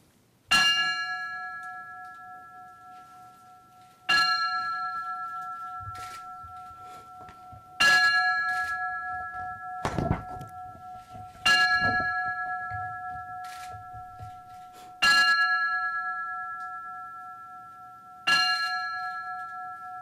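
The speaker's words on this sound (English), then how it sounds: "With each ring of the bell will signify 5 years of service he had with civil defense and emergency management." A single memorial bell tolls at a memorial honoring a late civil defense and emergency management director: six clear, resonant strikes spaced about every three to four seconds, each ringing out and decaying slowly, with a faint knock near the middle.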